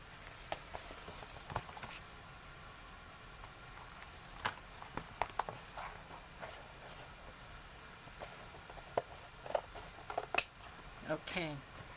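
Scissors snipping through paper while cutting out a picture for a wrap-around folio craft, a few sharp close snips scattered among soft handling rustles, with a quick run of cuts near the end.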